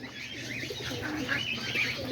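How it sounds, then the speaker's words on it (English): Homing pigeons cooing softly inside a pigeon loft, several low burbling calls overlapping with faint chirps, close and steady. "feeding all the pigeons."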